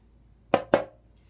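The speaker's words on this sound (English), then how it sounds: "if I play it just a little bit too slowly where the left hand stick hits further away than the right, it will sound like this" A snare drum flam struck with two sticks spaced too far apart, heard as two distinct, loud, close hits a fraction of a second apart, the second right after the first, alone with no talk.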